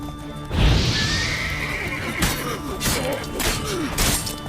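A horse whinnies loudly up close in The Witcher 3, followed by thuds and hoofbeats with further snorts and whinnies.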